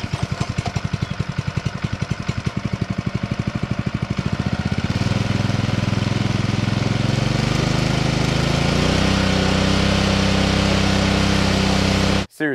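A Honda GX120 engine on a McLane edger chugs with a rapid, even putter at low speed, then revs up to a louder steady drone and settles at a higher running pitch before cutting off abruptly.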